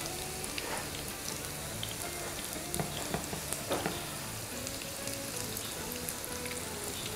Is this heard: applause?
no